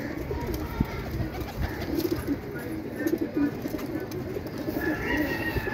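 Low pigeon coos from a pigeon perched on a rooftop water tank repeat softly over a busy outdoor background hum, with faint bird calls scattered throughout.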